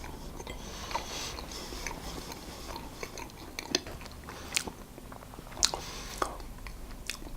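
Dried blueberry and oat cookie, firm outside and chewy inside, bitten and chewed up close, with soft crunchy crackles and a few sharper clicks over a low mouth-noise bed, no talking.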